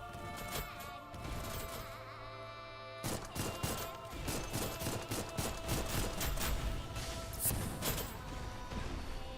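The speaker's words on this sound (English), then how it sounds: "Watch those wrist rockets." Wrist rockets fire in Last Waifu as a barrage of sharp, crashing blasts. They start after a quiet lead-in and continue densely over a steady game soundtrack.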